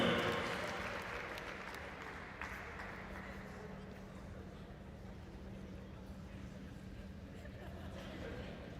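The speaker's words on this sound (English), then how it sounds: "Give them a round of applause." A packed arena crowd applauds at an NCAA men's gymnastics meet with California, Oklahoma and Nebraska, cheering a Cal team's historic achievement; a steady, dense wash of clapping and crowd noise holds for nearly nine seconds.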